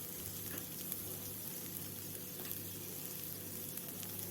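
Chili powder and garam masala sizzle in a frying pan with a soft, steady crackle, faint and close, with small clicks of stirring.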